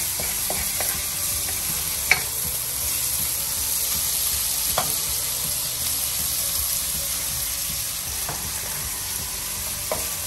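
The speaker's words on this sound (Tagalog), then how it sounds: "So, igisa mo lang hanggang sa mamula-mula na siya." Ham and bacon sautéing in a pan until browned, with a constant loud frying sizzle broken by occasional sharp utensil taps, close and without talk.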